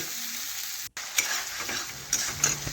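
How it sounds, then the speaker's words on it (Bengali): Cabbage with spices stir-frying in a pan for a vegetarian dish, a close, steady sizzle broken by scraping stirring strokes and a momentary cutout early on. "মেশাতে মেশাতে মশলা একটু আমি কষিয়ে নিচ্ছি।"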